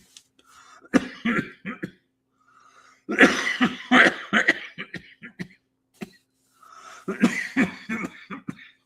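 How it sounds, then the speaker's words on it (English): Several bursts of harsh coughing from smoking a glass pipe, in separate fits with short pauses between them, close and fairly loud, no talking. "That's why I hate smoking these glass pipes, man. They make me cough."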